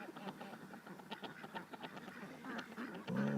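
A flock of ducks quacking as they head home at dusk, herded by a drone; dense overlapping quacks close by, continuous throughout, with a louder honking call near the end.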